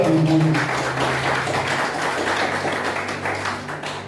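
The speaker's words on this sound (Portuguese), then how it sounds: "Palmas para Jesus, amado." A church congregation claps together in sustained applause, dense and even and fairly loud throughout, with a faint voice underneath at the start.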